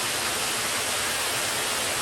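Waterfall giving a steady, dense rushing hiss with no pauses, heard at middling loudness and without voices.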